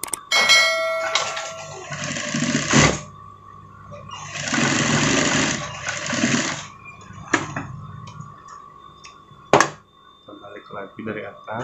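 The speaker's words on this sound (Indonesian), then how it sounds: "Lalu kita jahit bagian yang pinggir sebelahnya lagi." A sewing machine stitching along the edge of a pocket on a sweater, heard as loud whirring bursts of rapid stitching that stop and restart, with clicks and handling noises in the gaps.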